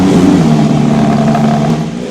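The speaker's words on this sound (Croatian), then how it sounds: "A zvuk, ovo je prava simfonija atmosferskog motora." A Porsche 911 GT3 with a naturally aspirated engine revs loudly and close, a sustained mechanical roar that holds steady and then eases slightly near the end, with no voices over it.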